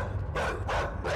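A dog in the video game INSIDE barks twice in quick succession, sharp and fairly close over a low rumbling background.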